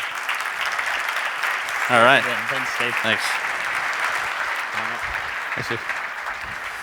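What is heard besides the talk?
audience applause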